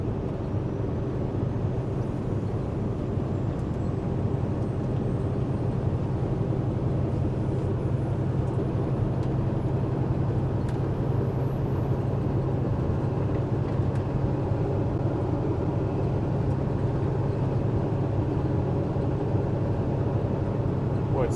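A truck engine drones steadily while driving, a constant low rumble with road noise that holds at an even, close level throughout with no breaks.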